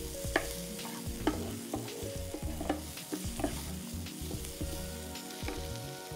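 Ingredients sizzle and fry in a pan while a spoon scrapes and stirs in an irregular rhythm. The sound is close and moderately quiet, with no talking.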